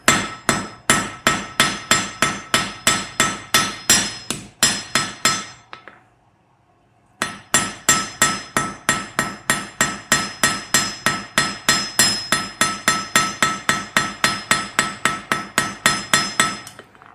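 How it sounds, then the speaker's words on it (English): Iron scrolls hammered flat on the face of a blacksmith's anvil ring out as loud, steady metallic blows, a rapid run of strikes, a short pause, then another long even series. "Here I go at the anvil's face."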